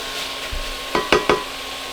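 Leeks and onions sweat in oil in a pan with a soft steady sizzle, broken by three quick clinks of a utensil stirring against the pot near the end.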